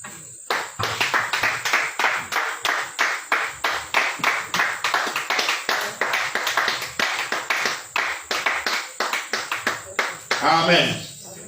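Church congregation clapping in acclaim of the Lord, a long run of rhythmic, evenly spaced hand claps, fairly close and steady, ending with a brief burst of voices.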